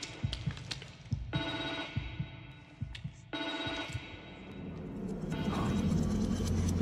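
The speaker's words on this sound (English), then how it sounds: "Guess we're gonna pick up this mysterious phone in the middle of nowhere." A telephone rings in the horror video game The Evil Within 2, sounding a bright electronic bell in repeated bursts, each a second or more long, over low, droning ambience and occasional thuds.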